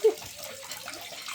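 Warm water splashes and pours over a baby during a bath at home; one brief, soft splash at the start gives way to a faint, steady watery wash.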